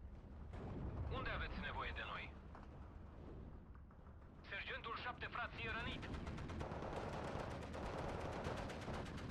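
Machine guns rattle away continuously in the Steel Division 2 strategy game, with bursts of battlefield gunfire and explosions underneath while someone speaks over the action.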